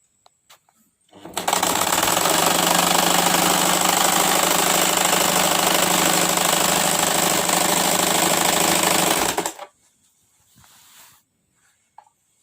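An electric sewing machine stitches pieces of a salwar together, running in one steady, loud, rapid whirring burst of about eight seconds that starts and stops abruptly, with quiet handling noises after it.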